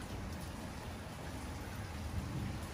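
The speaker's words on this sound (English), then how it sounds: "Rain is coming down pretty good." Steady rain coming down hard outdoors before nightfall, a dense, even hiss of drops close by with no pauses.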